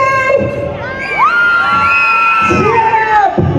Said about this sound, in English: Yeah, please cheer up more.